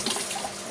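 Water runs into a large fish tank holding big carp in a short, steady splashing pour, heard close by without any talking.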